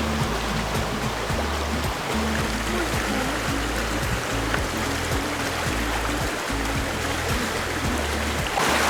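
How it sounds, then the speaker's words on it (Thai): A clear mountain stream rushes steadily over rocks along a hill road in northern Thailand, a loud, continuous wash of water heard close up with no talking. "ทางที่เราจะขึ้นไปบนดอยพอดีมันมีลำธารนะ น้ำก็ใสดี"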